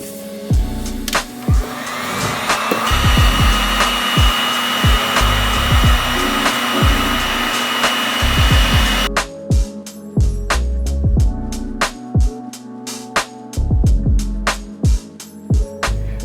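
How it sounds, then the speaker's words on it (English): A small heat gun blows a steady, loud whirring hiss while softening the headlight lens seal on a BMW E90/E92 3-Series, with occasional sharp knocks and taps over the constant airflow. "I have my little heat gun here"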